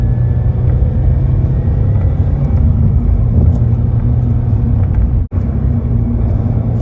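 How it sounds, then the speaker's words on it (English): A Subaru BRZ tS drones steadily at low pitch as it is driven through a turn. The engine rumble stays close and constant, then cuts out briefly near the end before resuming. "Let's go to 4th gear in this turn. Brake a little bit. And accelerate through."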